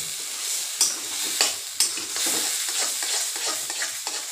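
Curry stirred in hot oil in a pan, a steady close sizzle and fry with repeated scraping stirs and a few sharp clinks of the spoon against the pan, no talking.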